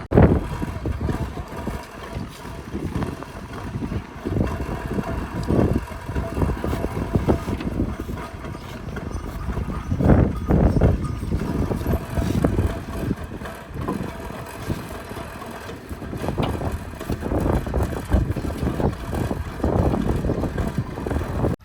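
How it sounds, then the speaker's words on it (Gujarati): Cold wind gusts across the microphone in a continuous low rumble, swelling and easing in surges, with no voices. "બધી બાજુ ઠંડો ઠંડો પવન આવે છે"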